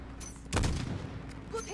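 Gunfire in the Modern Warfare 2 video game, a burst of loud shots and a booming blast that rings out, with a shouted voice nearby.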